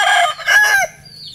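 A gamefowl rooster gives a short, loud, close crow, broken into a couple of bursts, with a soft cluck at the end.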